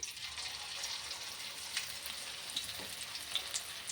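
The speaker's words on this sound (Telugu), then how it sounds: "మనం ఇప్పుడు ఈ పిండిని కొద్ది కొద్దిగా పకోడీలాగా వేసుకొని కాల్చుకోవడమే" Spinach pakoda batter deep frying in hot oil, giving a quiet, steady sizzle with occasional small crackles and pops.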